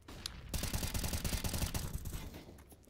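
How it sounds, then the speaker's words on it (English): Rapid burst of gunfire penetrating a wall in Counter-Strike during a collegiate esports match, a dense run of sharp shots after a brief quiet start, loud and close, trailing off near the end. "Wall bang's coming in."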